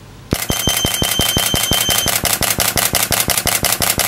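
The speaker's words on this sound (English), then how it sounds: "I'm going to hold the shutter button right here as long as possible to see how it works." A camera shutter fires in a continuous burst while a Yongnuo YN622C-TX flash trigger is attached, producing a crisp, steady train of sharp mechanical clicks, close and loud, at roughly six per second.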